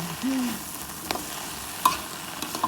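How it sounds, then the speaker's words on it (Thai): Chinese kale and mustard greens stir-frying with garlic and chili produce a moderate sizzle with intermittent clanks and scrapes of a spatula on the pan, including a few sharp metallic hits; no talking. "ผัดผักคะน้ากับผักกาดดอกนะคะ"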